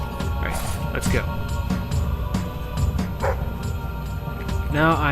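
A dog in the video game Fable 3 yips and barks over game background sounds, ending in a rising, wavering whimper.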